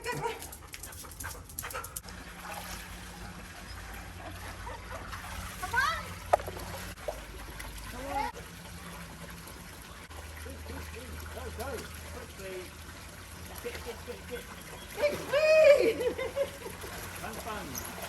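Water splashes and trickles as a smelly dog is showered in Thailand, the dog panting and whimpering nearby, with people talking over the running water.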